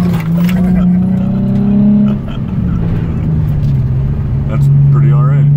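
A Nissan 350Z engine drones and revs close by during a drift, its pitch rising and sagging in long sweeps, with a steady loud hum and voices talking over it.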